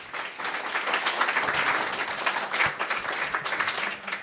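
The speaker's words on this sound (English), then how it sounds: "Can we get a round of applause for the panelists?" Warm, sustained applause for the panelists at a Bitcoin discussion, many hands clapping steadily at moderate loudness with no break.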